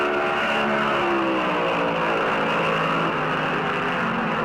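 Stock cars race at Darlington Raceway in the 1971 Southern 500, several engines roaring loud and steady together, with dense, sustained high-revving drone and shifting pitch as they run close at speed.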